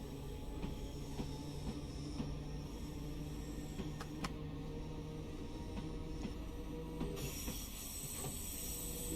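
A train runs on track in Train Sim World, a steady rumble of wheels with light clicks and squeals and a tonal hum, loud and continuous, with no speech.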